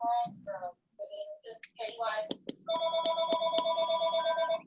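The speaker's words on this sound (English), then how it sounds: "Somebody's ringing." A house telephone rings in a home, a repeated electronic bell trill with regular bursts that follows a few spoken words, ringing loud and close.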